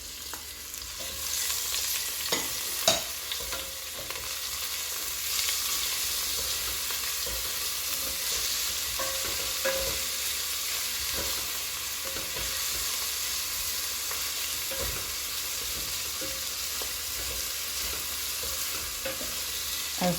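Onions, garlic and chili frying together in a pan for a Congolese amaranth stew, a loud, dense, continuous sizzle with scattered pops and crackles, up close.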